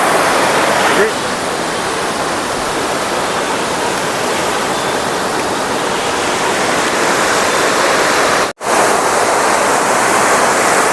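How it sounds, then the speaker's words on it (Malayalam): Loud, steady roar of water gushing under force from an opened valve at Chimmini Dam, continuous broadband noise throughout with a brief dropout near the end. "ഇവിടെ വാൾവ് തുറന്നേക്കുന്ന സമയമായതുകൊണ്ടാണ് അങ്ങനെ വെള്ളം ചീറ്റി അല്ലെങ്കിൽ ഫോഴ്സിൽ വരണത് കാണാൻ പറ്റുന്നതെന്നാണ്"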